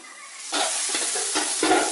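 River snails are stir-fried in a wok, a short burst of sizzling and scraping stirs that swells after a quiet start and stays close and loud.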